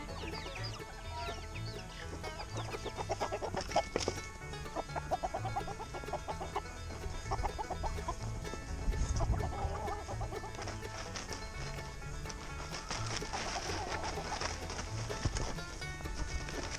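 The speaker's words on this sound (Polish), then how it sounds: "Wypuszczę jeszcze tylko kury na wybieg" Hens in an outdoor run cluck repeatedly in a busy, continuous background of farmyard noise, with scattered short calls overlapping throughout.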